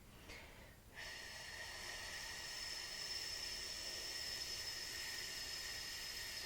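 A slow breath is exhaled through the mouth during a winter do-in self-massage session, a long steady airy hiss that runs close and continuous for several seconds.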